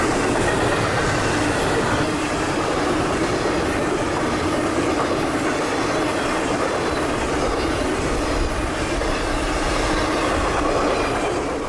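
FEC freight train 222 rolls past at Bunnell, Florida, north of Daytona, a loud, steady rumble of wheels with rhythmic clickety-clack and faint squeal lasting throughout, with no voices.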